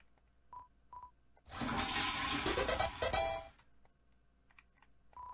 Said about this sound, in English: You flush the toilet?